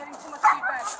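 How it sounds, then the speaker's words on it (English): A dog barks in a house during a live phone call: one short sharp yip stands out over low background noise, then fainter whimpering sounds follow. "We can't stop the dog from barking."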